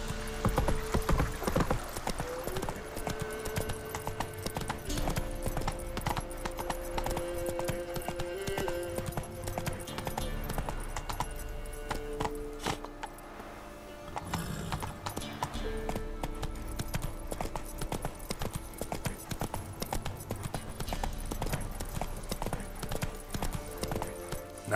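Roach, the horse in The Witcher 3, gallops in a steady rapid clip-clop of hooves that runs throughout, layered over game music and ambience, with a short lull midway.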